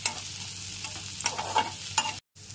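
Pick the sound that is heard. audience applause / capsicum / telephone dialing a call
capsicum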